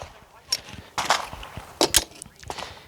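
A Glock pistol slide and an empty magazine being handled, giving several sharp metallic clicks and clacks spaced irregularly, fairly close, with some quiet background.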